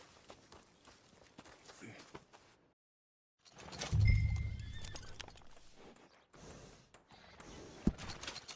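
Horse hooves clip-clop in Red Dead Redemption 2, soft repeated footfalls under game ambience, broken by a brief silence and a louder rumbling passage, with faint speech in places.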